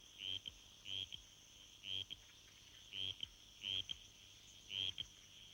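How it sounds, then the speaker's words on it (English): Tree frogs calling at isolated forest pools after the first heavy rains, where many gather in search of mates: six short, bright calls repeat at a steady pace of roughly one a second, fairly distant and faint against quiet background noise. "frogs collect in large numbers in search of mates."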